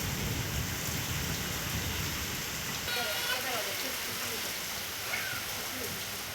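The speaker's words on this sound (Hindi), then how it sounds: "बेमेतरा जिले में 2 दिनों से लगातार मूसलाधार बारिश हो रही है" Heavy torrential rain in Bemetara district, India, after two days of nonstop downpour: a dense, steady roar of rain hitting surfaces, loud and continuous, with faint rumbles mixed in.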